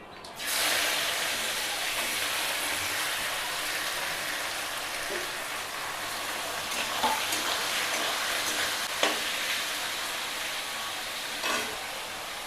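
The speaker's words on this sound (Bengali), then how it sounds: "পেঁয়াজগুলো লাল লাল করে ভাজা হয়ে গেছে" Onions fry in oil with cumin, whole garam masala, dried red chillies and bay leaves, making a dense, even sizzling hiss close by that starts abruptly and holds steady, with occasional faint clinks of stirring.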